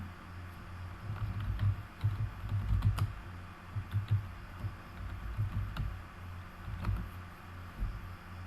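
Typing on a computer keyboard, a quiet run of soft, irregular key clicks close by in a calm room.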